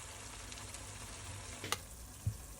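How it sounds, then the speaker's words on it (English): Thin potato slices fry in oil in a small pan for a Spanish tortilla de patatas, giving a steady, even sizzle throughout with a couple of faint clicks from utensils. "we'll add this to another pan with oil to kind of brown the potato"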